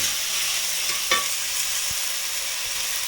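Goat meat curry sizzling and frying steadily in a pan while being stirred, a constant loud hiss with an occasional scrape of the spoon, no voices.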